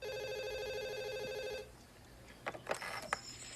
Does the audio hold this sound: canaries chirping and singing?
no